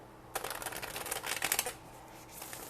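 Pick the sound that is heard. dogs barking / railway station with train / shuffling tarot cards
shuffling tarot cards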